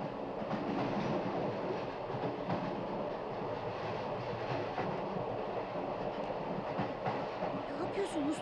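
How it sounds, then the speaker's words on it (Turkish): A large train rolls past in steady, continuous rumble with faint clickety-clack of wheels, fairly loud and unbroken throughout. "Hey, tren geliyor!"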